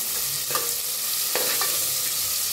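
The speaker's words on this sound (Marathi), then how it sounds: "कांदा छान असा भाजून घेऊया।" Chopped onion frying in a pan with mustard seeds and asafoetida, a steady close sizzle broken by a few scraping stirs.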